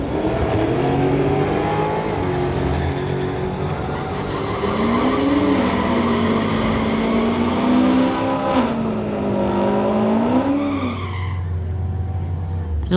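Drag race between a 1973 Chevy Nova with a 434 engine and a Ford Mustang, engines roaring loudly and rising and falling in pitch through gear changes, with tire noise underneath.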